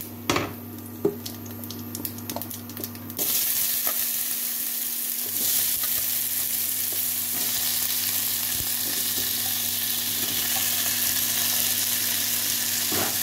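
Boiled potatoes frying in oil with cumin seeds, bay leaf and dried chilli, a steady loud sizzle that jumps louder after about three seconds, with occasional clinks and stirring scrapes and a constant low hum underneath.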